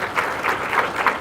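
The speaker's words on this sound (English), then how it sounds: "Can we have a big round of applause for him?" Applause from an audience at a business school HR conclave, a brief burst of steady clapping with a few louder swells, fairly close and without talk.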